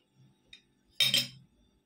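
A tablespoon clinks sharply against a bowl while vegetable oil goes into pempek dough, with a faint tap first and then a louder metallic ring that fades quickly, close by and without talk.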